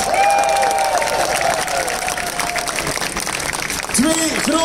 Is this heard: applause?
yes